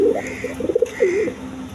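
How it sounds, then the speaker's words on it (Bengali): One of a pair of large racer pigeons coos close by in soft, rolling bursts, two phrases separated by a short pause. "এখানে এক পেয়ার রেসার কবুতর দেখেন বিগ সাইজের"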